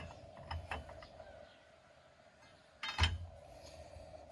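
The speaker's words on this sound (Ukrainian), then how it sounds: "Коротше, взяв такий ломик, у мене є невеличкий. Зараз будемо пробувати затягувати." A small crowbar is used to tighten a bolt on a vehicle axle with a knocking fault: faint metallic clicks and creaks early on, then a sharper clank and scrape near the end, quiet and without speech.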